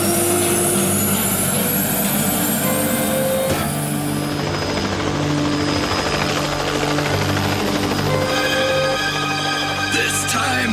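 Cartoon helicopter from an animated Mega Man episode flying continuously, a loud steady rotor drone with engine whine that holds for the whole stretch, no voices over it.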